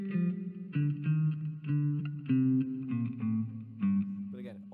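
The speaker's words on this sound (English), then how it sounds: "It also has a built-in reverb, which is super mild" Electric guitar chords through a pedal's built-in mild reverb, a gentle wash trailing each strum, played in short phrases with brief gaps between them.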